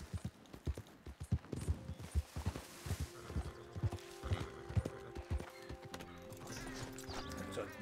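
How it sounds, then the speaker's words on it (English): Donkey hooves clip-clop in a quick, even rhythm in the Western game Red Dead Redemption 2, then slow and thin out, with a brief braying whinny and faint background noise. "It's a donkey"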